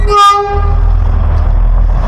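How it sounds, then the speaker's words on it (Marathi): A Matheran hill train horn toots briefly and loudly up close, followed by the low rumble of the train rolling past. "गाईज आता ट्रेन येते"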